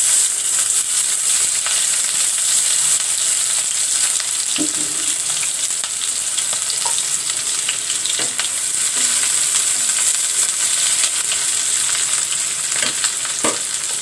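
Green chilli and chopped onion fry in mustard oil in a wok, a loud, steady, dense sizzle and crackle that fills the whole stretch with occasional stirring knocks and no talking.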